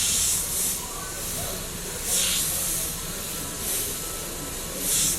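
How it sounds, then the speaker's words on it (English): An Iwata Eclipse double-action airbrush laying down graffiti-style paint gives repeated bursts of airy hiss in short pulses over a steady background rush, close and fairly loud. "the airbrush I'm using is an Iwata Eclipse. It's a double action airbrush."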